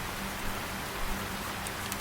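Steady rain falls outdoors near a trailhead, a dense, even hiss of drops with a few slightly sharper spatters, continuous and unbroken throughout.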